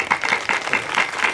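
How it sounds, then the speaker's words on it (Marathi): A kirtan audience gathered at Airoli, Navi Mumbai, claps together in a short burst of dense, rhythmic applause close to the listener. "टाळ्या वाजवा"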